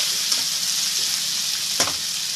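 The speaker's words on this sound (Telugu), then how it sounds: "ఉల్లిపాయ అంతా బ్రౌన్ కలర్ వచ్చేంత వరకు కూడా మగ్గిపోవాలి ఆయిల్లోని." Chopped onions and green chillies fry in hot oil in a pan with a loud, steady close sizzle. A couple of brief stirring scrapes break through, and no one speaks.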